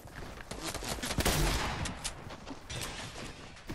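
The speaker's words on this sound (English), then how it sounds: "one's shooting at me from above" Dense bursts of rapid video-game gunfire in a Fortnite match, loud and close, peaking in a heavy volley early on before thinning to scattered shots, with no talk over it.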